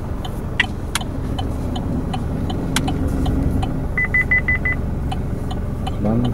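A learner driver's car creeps slowly while parking during a driving school lesson in Nuremberg, a low, steady engine hum with a short run of parking-sensor beeps and a few clicks, heard from inside the car.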